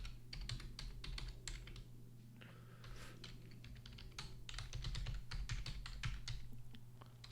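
Close computer keyboard typing while entering JavaScript code, a busy run of quick irregular keystrokes with brief pauses. A low hum sits steadily underneath.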